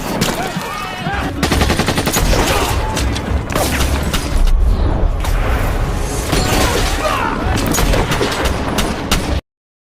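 Loud, continuous gunfire from several weapons in a battle against rebels rattles without pause, with heavy booms and sharp cracks overlapping throughout.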